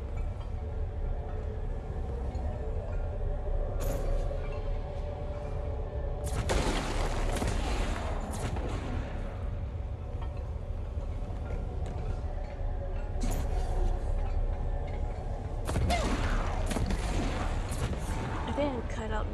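Gunfire in the video game Control, with bursts of shots and booms at several moments over a steady layer of game sound, loud and close.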